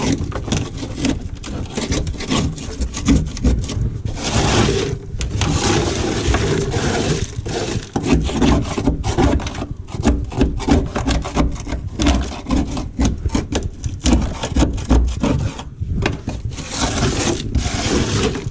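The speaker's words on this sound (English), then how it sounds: "I know you see me scraping this off of here" Sound-dampening material is scraped off the floorboard of a 2005 Chrysler PT Cruiser GT Convertible, heard as close, loud, continuous rasping and scratching strokes with brief gaps between them.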